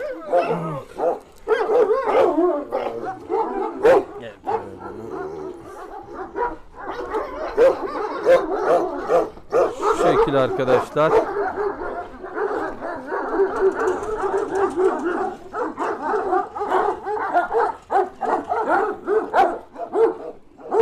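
Several dogs bark and yip excitedly in rapid, overlapping bursts at a newly arrived Kangal, fairly close, while someone talks intermittently over the commotion.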